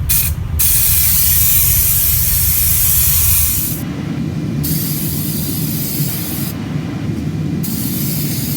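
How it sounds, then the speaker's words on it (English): A SprayMax 2K polyurethane aerosol can sprays clear coat onto a Jeep Wrangler YJ tailgate, loud close hissing bursts with a long first pass, then shorter sprays broken by brief pauses, without talk. "this nozzle is actually painting this way, sideways."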